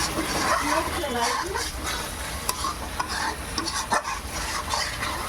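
Chicken with spices cooks in a pan under constant stirring, a dense sizzle and scraping running throughout while a person talks over it.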